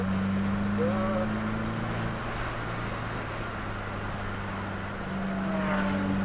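A 2022 Subaru WRX on the Waterford Hills race track gives a steady, droning engine note from inside the cabin, holding a constant pitch while a person gives driving instructions over it.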